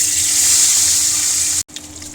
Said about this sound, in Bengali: দেখো কড়াইয়ে তেল গরম হয়ে গেছে, এবার আমি মাছগুলো দিয়ে দেব।